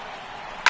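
A baseball bat cracks against the ball on a foul down the left field line in a Giants vs Dodgers game, a single sharp, loud crack after a steady stadium crowd murmur.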